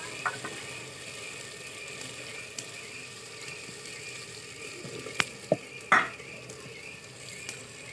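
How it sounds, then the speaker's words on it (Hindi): Gentle frying hiss of cabbage in a pan with spices, occasional stirring scrapes and a few clinks, fairly quiet and continuous throughout. "अब इसमें गोभी डालेंगे"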